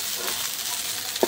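Taro leaves frying in a hot pan, a steady soft sizzle with a faint stir or clink near the end, no voices.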